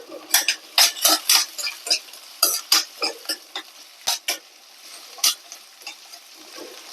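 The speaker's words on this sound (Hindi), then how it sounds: "अब डाल देती हूँ मैं इसमें हरी मिर्च। इनको थोड़ी देर भून लेंगे।" Green chilies fry in a pan for sarson ka saag, with a steady stream of clinks and scrapes from stirring over a light crackling sizzle, close up and with no talking.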